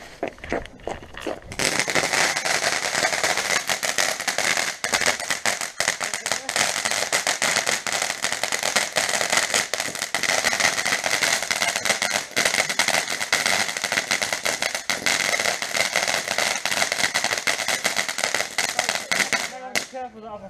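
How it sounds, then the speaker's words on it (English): Poundland fireworks going off on Bonfire Night, a long dense barrage of rapid crackling bangs, loud and close, with faint voices in the background. "Be careful that other fireworks playing there."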